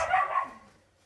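Dogs playing and chasing each other indoors let out a short burst of excited barking and yipping, loud at first and then trailing off over about a second.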